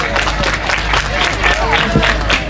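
A wedding ceremony crowd bursts into hearty applause, dense steady clapping with a voice talking over it.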